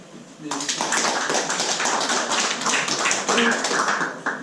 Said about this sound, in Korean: 조경태 의원님께 감사의 박수 한번 좀